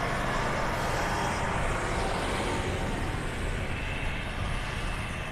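A dump truck rumbles along a beach road at Vanderbilt Beach in North Naples, Florida, a broad steady engine roar with heavy low rumble, fairly close and continuous, with no talk over it.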